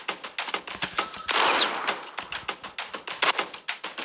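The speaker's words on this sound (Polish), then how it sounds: "musimy teraz strzelać na ślepo, po prostu zanim do nas strzelą" Rapid gunfire from a video game as the players shoot blindly, dense repeated bursts of sharp shots lasting throughout, with one louder blast near the middle.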